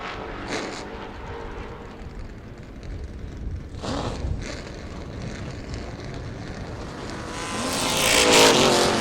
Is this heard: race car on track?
yes